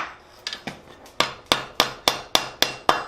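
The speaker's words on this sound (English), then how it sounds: "we're going to tighten this up right over here on the anvil" Hammer blows on a forged steel candy cane at a blacksmith's anvil, about nine sharp metallic strikes, tentative at first then settling into a steady, loud rhythm with ringing overtones and no talking.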